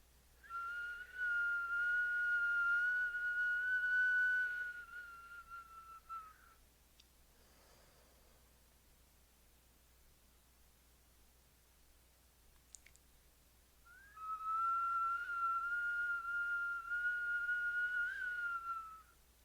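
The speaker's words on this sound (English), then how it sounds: "making that whistle sound through the O-shaped mouth." Whistling breath blown through an O-shaped mouth during kundalini yoga comes in two long, steady whistles several seconds each, separated by a quiet pause, soft and close.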